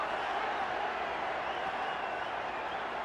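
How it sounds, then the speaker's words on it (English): A boxing arena crowd at a Manny Pacquiao versus Antonio Margarito fight roars continuously, a broad, steady wall of cheering and scattered clapping heard from a distance, with no gaps. "And listen to the response of the crowd. They are just loving it."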